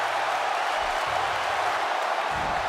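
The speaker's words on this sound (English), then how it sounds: "The crowd are loving it. They're going crazy for this co-main event" Arena crowd noise from a WWE 2K17 wrestling match, a dense continuous roar of cheering that stays loud and even throughout with no voices standing out.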